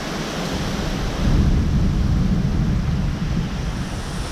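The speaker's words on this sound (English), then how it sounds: "That storm's here now." Strong wind gusts roar through a thunderstorm as a loud, continuous rushing sound that swells noticeably in the middle, with deep rumbling low in the mix and no voices.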